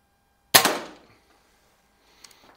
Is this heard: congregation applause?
no